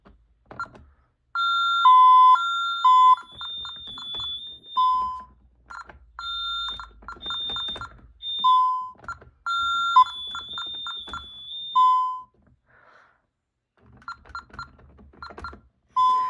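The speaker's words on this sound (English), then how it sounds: "let's test the panics on the other keypad out here" A Honeywell Vista 15P alarm keypad sounding during a panic test: a series of shrill electronic beeps and two-tone chirps in repeated bursts, separated by short gaps and quieter button clicks.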